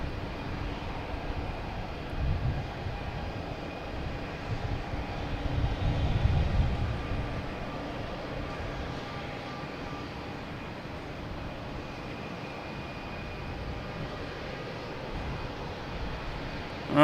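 A JetBlue airliner comes in to land at Boston Logan, a faint, steady jet engine hum that stays far off and low under the ambient noise of the spotting spot.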